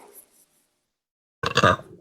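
A person lets out a single short, loud burp after eating Thin Mint and peanut butter cookies, heard close after a moment of near silence.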